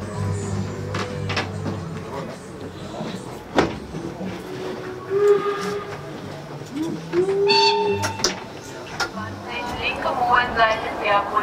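Steam locomotive 03 1010 is underway on the run from Minden toward Norderney, with a steady rumbling rail noise and intermittent clanks and squeals, while a voice talks over it.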